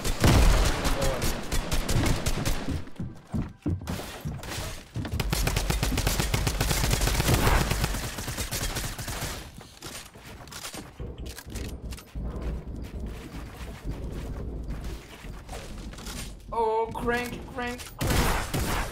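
Shotgun fire in the Fortnite video game rings out in repeated loud, sharp blasts amid a dense barrage of other gunfire, with talk mixed in throughout.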